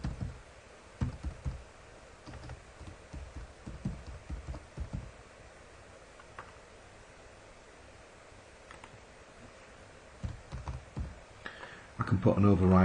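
Computer keyboard typing while entering component details in electrical design software: scattered clusters of close key clicks under quiet room tone, with a louder burst of keystrokes at the end.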